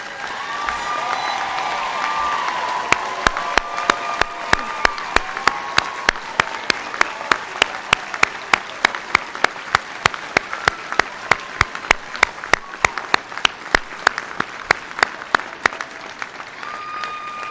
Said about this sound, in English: stand and turn and face the guests for one last round of applause from the audience